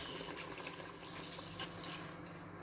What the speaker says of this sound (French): Je vais rajouter un tout petit peu d'eau.